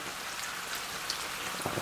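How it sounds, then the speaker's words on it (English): Water splashes and patters steadily into a pan of cooking chicken, a close, continuous hissing pour with a few brief louder splashes near the end. "And now add 1 glass of water."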